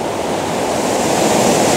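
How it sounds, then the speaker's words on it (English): A waterfall streaming down over rocks gives a loud, steady, broadband roar that stays unbroken and close throughout. "get the falls just sort of streaming down, get the nice little rocks in the foreground"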